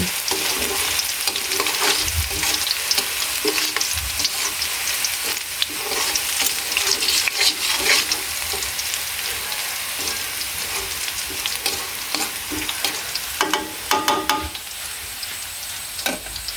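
Soft-fleshed fish frying in hot oil in a home kitchen, a continuous crackling sizzle with bursts of popping spatter that swell and settle throughout, no talking.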